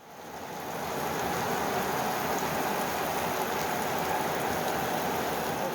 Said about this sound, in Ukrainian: І мене застав дощик і намочив.